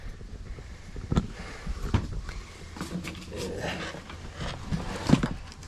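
Rescued former stray dogs pant and move about at close range, with rough breathing and scuffling bursts. Louder thumps land near the start and the end.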